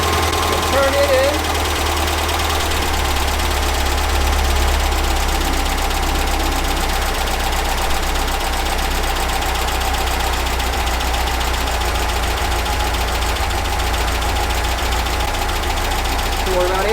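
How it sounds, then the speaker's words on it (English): A VW Baja Bug engine idles steadily at about 850 RPM after carburetor and distributor tuning. The rumble is loud, close and constant throughout, with a faint voice underneath. "I'm going to go through and turn the big screw back down to a smooth idle of 850 RPM."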